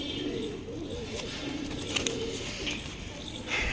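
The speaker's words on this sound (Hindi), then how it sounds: "ये कौन सा कबूतर है?" A pigeon coos softly and repeatedly, low throaty calls over a busy outdoor background.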